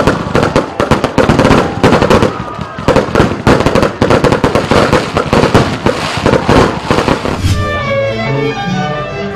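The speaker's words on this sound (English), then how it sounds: "The evenings were wrapped up with incomparable spectacles of fireworks" A fireworks display bursts at evening celebrations in Anambra State, with rapid crackling volleys and dense popping bangs that continue loudly for several seconds before fading into a softer, ringing tail.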